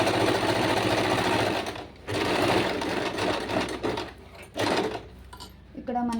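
A domestic sewing machine running a zigzag stitch, loud and close, with a dense mechanical whir in several bursts separated by short pauses as the stitch length is adjusted.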